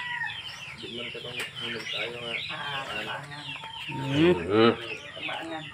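Chickens cluck and chatter steadily at close range, with a louder burst of clucking near the end.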